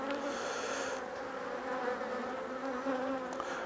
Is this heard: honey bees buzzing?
yes